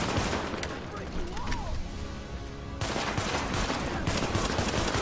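Rapid gunfire fills a firefight in the video game The Division, with dense bursts of shots continuing throughout, briefly easing before resuming loud and close.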